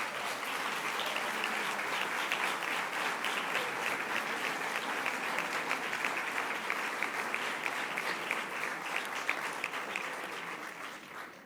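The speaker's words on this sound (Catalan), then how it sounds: "un aplaudiment ja d'entrada per ells" Sustained audience applause at a public event marking the 25th anniversary of the Convention on the Rights of the Child in 2014, dense steady clapping that holds at an even level throughout, with no voices over it.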